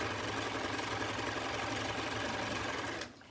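A sewing machine runs a straight stitch at steady speed, its fast, even mechanical whir continuing for about three seconds before stopping abruptly.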